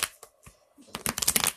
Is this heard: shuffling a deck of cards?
yes